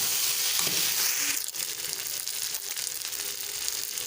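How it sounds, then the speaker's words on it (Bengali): Raw jackfruit pieces sizzle and crackle in hot oil as they are stirred in a pan for a Bengali curry, with a steady close frying hiss and a few scraping stirs. "আমি এখন এঁচোড়টা দিয়ে দিলাম, এঁচোড়টা দিয়ে একটু নাড়াচাড়া করে নিচ্ছি।"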